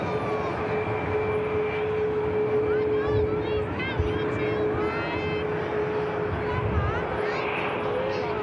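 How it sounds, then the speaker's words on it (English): The Ice Max aircraft taxiing past at Manchester Airport, a steady jet engine whine and rumble holding throughout at moderate distance, with a voice talking over it. "Just got the Ice Max coming past as we track this aircraft out."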